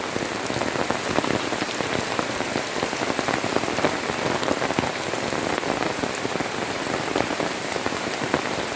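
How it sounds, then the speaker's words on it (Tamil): Heavy rain pours steadily at a farmhouse in a rural home area, a loud, dense, continuous hiss of drops hitting surfaces with no letup. "செம்ம மழை பாருங்கள், மழை எப்படி பெஞ்சிட்ருக்குன்னு."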